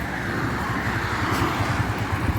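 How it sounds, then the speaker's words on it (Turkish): Car traffic beside a highway, with vehicles rushing past in a continuous dense roar and a low rumble, steady and fairly loud with a faint wind-like hiss. "Şu otoban kenarına çekiyoruz arkadaşlar. Araba sesleri falan gelebilir."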